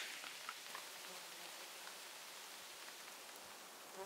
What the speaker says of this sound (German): Sind aber alles Mücken, die ins Zelt wollen.